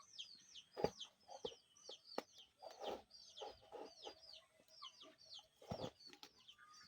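Chickens cluck repeatedly in short, choppy bursts, with sharp thumps and rustling nearby and no voices.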